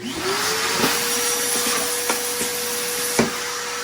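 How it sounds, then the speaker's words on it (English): A vacuum sucks up loose substrate in an animal tub with a steady, loud whooshing drone, punctuated by occasional knocks and rattles as the nozzle bumps the container. "If the surface is a mess, I usually vacuum it back up."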